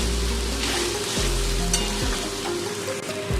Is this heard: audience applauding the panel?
no